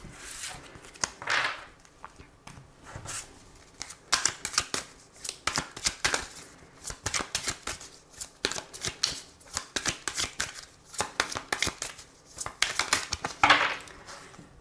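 Tarot cards are shuffled close by in repeated crisp riffling bursts, with short pauses between shuffles and no voice over them.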